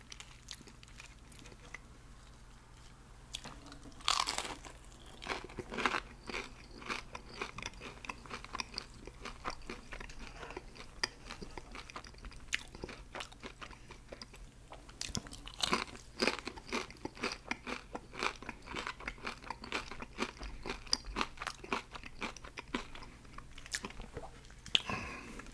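Crunchy spicy Popeyes fried chicken being bitten and chewed up close, a long run of crisp crackling crunches in uneven bursts with brief quiet pauses between bites.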